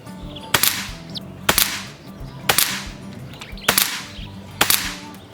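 Air rifle fired five times at a steady pace of about one shot per second, emptying the magazine of JTS 22 grain .22 pellets, each a sharp loud crack with a brief ringing tail, close by and without talk.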